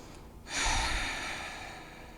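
During a power yoga flow, one slow, deep breath is drawn in and let out close to the microphone, soft and breathy, fading gradually in a quiet room.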